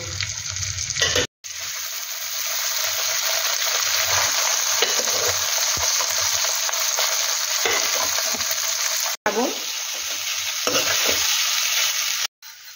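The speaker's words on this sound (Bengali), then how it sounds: "এবার আমি এর মধ্যে চাল দিয়ে দেব" Rice sizzles and fries steadily in hot ghee with turmeric for basanti pulao, a loud continuous crackle with brief stirring scrapes, broken by a few short silent gaps.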